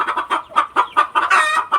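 Several chickens cluck in a steady series of short, close calls on a rural poultry keeping setup, with a busier burst of overlapping clucks toward the end and no talking.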